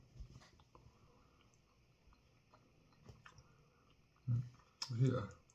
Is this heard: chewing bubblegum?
yes